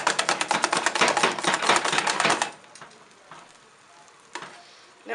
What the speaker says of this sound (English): And you see I'm starting to clean the bottom when I whisk.